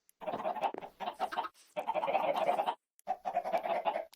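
Chickens in the Minecraft video game cluck in close, clear bursts of several short calls separated by brief silences, with no talking over them.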